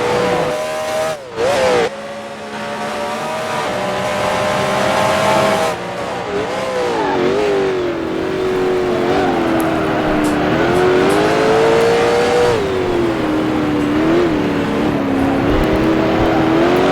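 A 1966 Can-Am race car engine in Grand Prix Legends at Mont Tremblant, loud and continuous, its pitch rising and falling through gear changes and corners, with a brief gap early on and no talk.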